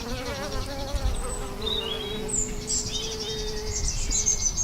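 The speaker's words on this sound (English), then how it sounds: "So you can see there's bees flying in and out" Bees fly in and out around beehives in cool evening air, their close, wavering buzz droning continuously, with faint bird chirps in the background.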